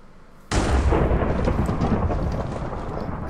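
A sudden loud thunderclap from a lightning strike in Minecraft Survival Games bursts in after a quiet moment, then rolls on as a dense, sustained rumble with no talking.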